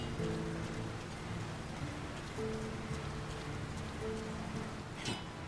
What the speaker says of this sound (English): Who could live in a town where it's always raining?